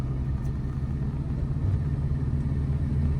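Car engine running on a highway during a driving lesson, a steady low rumble with road noise that holds level throughout, close and continuous with no talk.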